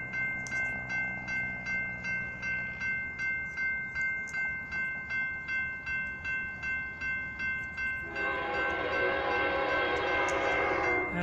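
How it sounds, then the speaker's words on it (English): A BNSF freight train hauled by a CSX locomotive passes close by, with steady rhythmic clatter of railcars over rail joints, then a louder, denser roar as it continues past. "It's a freight train."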